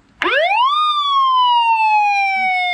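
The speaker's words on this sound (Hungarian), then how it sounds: "nem igazi a rendőrautó, hogyha természetesen nincs hozzá az óriási fehér és szürke sziréna" A toy police car siren, a large white and grey model of an old Soviet-era unit, winds up sharply into a loud sustained electronic wail that slowly drops in pitch, heard alone and up close.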